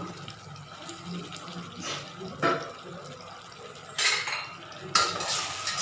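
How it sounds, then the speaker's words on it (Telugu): Mutton bones dropped into a cooking pot, giving a few separate knocks and clatters against metal with light stirring and kitchen noise between them, close by and moderately loud, no talking. "ఇప్పుడు దీంట్లో మటన్ బోన్స్ అన్నీ వేసుకుందామండి."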